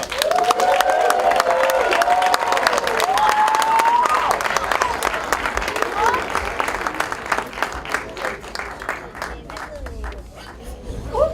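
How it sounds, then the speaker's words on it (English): A crowd gives warm applause for a guest of honour at a fraternity event, dense clapping mixed with cheers and whoops, loud and sustained before gradually tapering off, with voices calling out over it. "warm applause to His Highness, the Black Panther."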